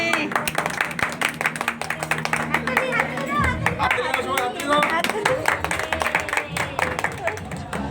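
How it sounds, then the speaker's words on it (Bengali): Several people clap hands at a family anniversary cake-cutting, a fast, uneven run of close, sharp claps throughout, with voices talking and calling out over the clapping. "হাততালি"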